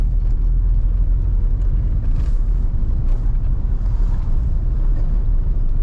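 A 1987 Mazda FC RX-7 rotary engine idles while warming up, a steady loud low rumble heard from inside the car alongside constant broadband noise, without any talking.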